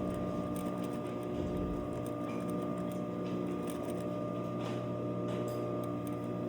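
Home sewing machine running slowly while stitching bias binding onto fabric, a steady low mechanical hum with faint ticking throughout, close and continuous with no talk.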